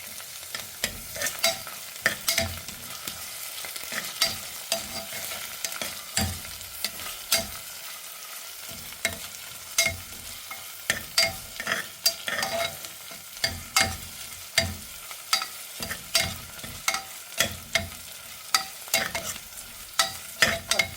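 Sliced onions softening in hot oil in a pan for a mutton liver gravy, sizzling steadily while a utensil stirs and scrapes them in repeated sharp clicks, close and alone with no voices.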